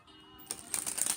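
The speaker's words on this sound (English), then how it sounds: "right now I'm just shuffling live" A deck of tarot cards is shuffled nearby, with a brief quick patter of soft riffling clicks that grows slightly louder toward the end.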